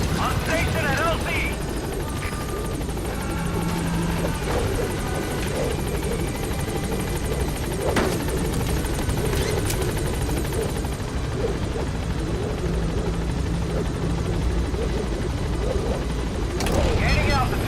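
A helicopter arrives at a landing zone in Metal Gear Solid V: The Phantom Pain, its rotor thudding loudly and continuously close by, with a radio voice speaking over the noise.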